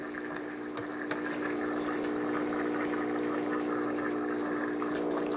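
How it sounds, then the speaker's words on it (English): Hot water streams steadily from the dispensing tube of an Amazon Commercial Barista espresso machine with grinder, its pump humming and hissing continuously at close range for several seconds, with a couple of faint clicks and no talking. "You'll get hot water coming out of the tube."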